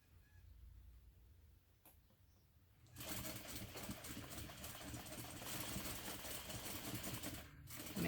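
Sewing machine running a seam with a half-inch allowance, starting after a few quiet seconds of low room noise, then a loud, dense mechanical whir sustained to the end with a brief dip near seven and a half seconds.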